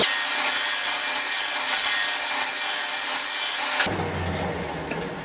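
Lathe tool roughing down a wood blank for a turkey call, a steady broadband scraping and cutting hiss that runs continuously for about four seconds, then drops abruptly to a quieter, duller rubbing.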